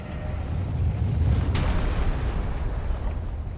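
A cannon fires in the Elden Ring DLC: a loud, deep boom with a sharp burst at its peak, set against a dense rumbling game soundscape that carries on throughout.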